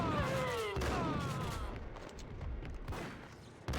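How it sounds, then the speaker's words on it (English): Gunfire in Max Payne gameplay, a few loud shots and thuds over busy game sound and a sweeping tone, with sharp hits spaced out near the start and end. "Now he's shooting at me."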